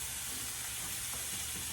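Venison sears in a hot pan with a steady, bright sizzle and hiss that holds constant throughout, with no talking over it.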